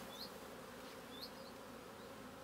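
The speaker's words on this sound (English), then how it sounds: "Shake the bees off." Honey bees buzz in a steady, dense drone as frames are shaken during a hive inspection in an apiary, with a few individual bees whining past close by.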